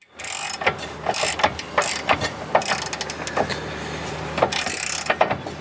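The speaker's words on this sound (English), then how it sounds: "So right now Spencer's installing the subframe back up. We got the front 2 bolts in" Ratchet clicks in quick bursts while bolts are tightened to reinstall the subframe on a BMW E36, close and fairly loud, with pauses and metallic knocks between runs and no talk.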